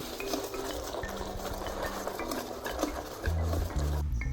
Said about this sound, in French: On va juste mélanger le chocolat avec les blancs d'œufs.